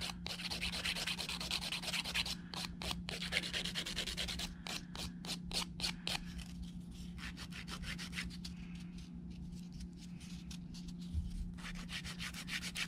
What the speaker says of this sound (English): Then I'm going to go to my fine file.